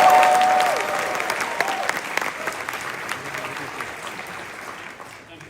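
Audience applause at a youth political rally in a downtown Marriott hotel, a steady wash of many hands clapping that starts loud and slowly tapers over several seconds, with a few louder individual claps and faint voices in the crowd.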